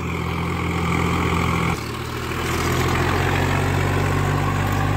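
A Kartar tractor pulling an 11-tine plough runs its diesel engine hard, a loud, continuous low drone that dips briefly partway through and then resumes steady, close by without talk.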